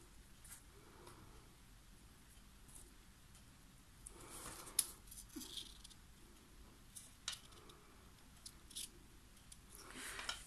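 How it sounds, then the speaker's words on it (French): Scissors snip away the excess rhodoid acetate sheet during card making, a few quiet, irregular cuts and crisp crinkles close up over a soft background hiss. "je viens couper le rhodoïde en trop"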